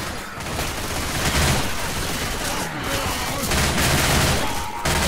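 Dense, loud video game gunfire rattles on continuously in rapid bursts, with booming shots and crashes layered throughout, barely pausing.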